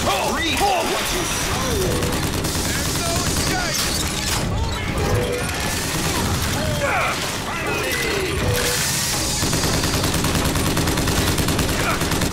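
Gunfire rattles almost without pause while enemies are shot in the first-person shooter Bioshock Infinite, mixed with mechanical clatter, crashes and game sound effects, with someone talking over it throughout.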